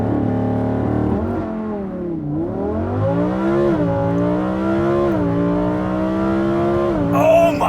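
A Lamborghini Huracan Sterrato launches in thrust mode, its engine roaring loudly and rising steadily in pitch through the gears with brief dips between shifts, close and continuous throughout.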